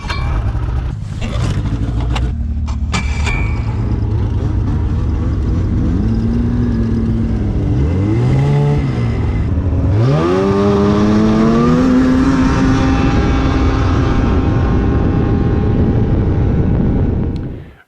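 A snowmobile with a tunnel longer than its running boards runs loud and steady while being ridden, the engine pitch rising and falling as it revs, with no talk over it.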